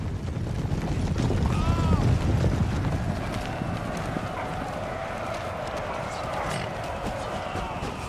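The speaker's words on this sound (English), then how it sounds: "just let the horse do all the work" Cavalry horses gallop in Empire: Total War, a dense rumble of many hooves under constant battle noise, steady and loud throughout with a talking voice over it.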